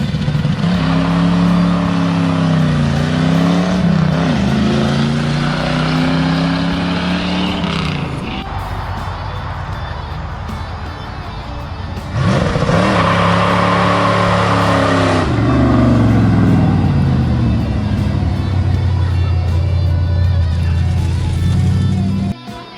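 A Pontiac Trans Am using two-step launch control. The engine holds loud, bouncing revs that rise and fall repeatedly, and a second harsh, roaring stretch follows a short dip, with the engine close and dominant throughout.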